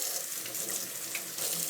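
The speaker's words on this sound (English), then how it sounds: "we're gonna give this a little rinse, just a couple seconds out of the tap" A plastic Aeropress coffee maker is rinsed under a running kitchen tap, giving a steady close hiss of flowing water for a couple of seconds.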